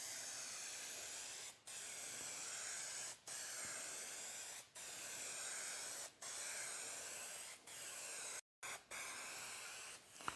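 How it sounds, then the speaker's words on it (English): Spray-on adhesive hisses steadily from an aerosol can onto laminate in a woodworking shop, long continuous bursts broken by several brief pauses, close and fairly loud with no talking. "But I really like this spray-on adhesive."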